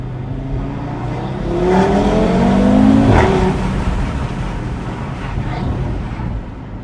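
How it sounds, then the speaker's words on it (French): An Audi TT RS engine with its exhaust valves open swells in a rising, throaty roar as the car accelerates, peaking loudly midway before settling into a steady drone with wind noise. "les valves se sont ouvertes"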